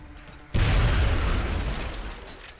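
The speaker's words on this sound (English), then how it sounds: "Toss your grenade at the enemy in front of you." A grenade detonates in the XCOM: Enemy Within video game, one sudden heavy booming blast after a quiet moment, followed by a rumbling decay that fades over the next two seconds.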